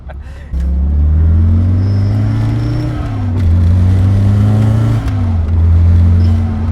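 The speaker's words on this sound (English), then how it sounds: "we hear the blower and all this mechanical power, all these things going on" Supercharged Toyota AE86 with a swapped 7AGZE engine idling loudly nearby, a steady low mechanical drone with blower whine that dips briefly and picks back up, running alone without talk.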